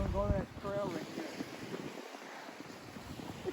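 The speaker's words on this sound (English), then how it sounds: "It's not that cold compared the other day with it's windy." Wind blowing outdoors at Sterling State Park in Monroe, Michigan, on a cold December day, a steady broadband rush buffeting the microphone throughout, with a brief voice at the start.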